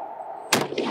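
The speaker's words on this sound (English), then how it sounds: "So that is my Luona trap gun." A single sharp shot from a Luona trap shotgun cracks out loud and close after a quiet stretch, followed by a brief fading tail.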